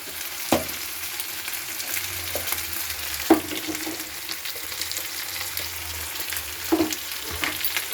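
Chilli fries in a pan with a continuous moderate sizzle, broken by several sharp knocks and scrapes of stirring against the pan.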